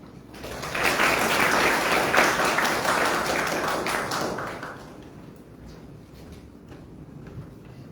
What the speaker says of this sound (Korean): 박수로 맞이해서 좋은 말씀 듣도록 하겠습니다.